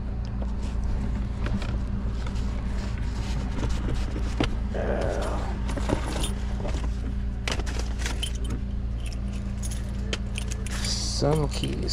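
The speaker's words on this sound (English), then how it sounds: "Some keys here, the car keys." Car keys jangle and clink close by inside a Honda Accord after a guardrail crash, in repeated bursts over steady low cabin rumble, with a person talking at times.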